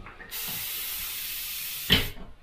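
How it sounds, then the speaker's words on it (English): A Harder & Steenbeck airbrush spraying base coat at 25 psi, a single steady hiss lasting under two seconds, heard close and alone, ending with a brief louder burst. "That's the sort of nice spray pattern you're getting on the base coat."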